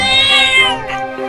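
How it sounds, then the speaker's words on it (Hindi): A single loud, close cat meow with a drawn-out wavering pitch that tails off, heard alone in a comedy sketch. "मियाऊ, ये मियाऊ क्या है?"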